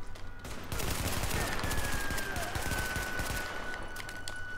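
Heavy automatic gunfire in The Division video game, a loud sustained fusillade of rapid shots with rattling echoes throughout.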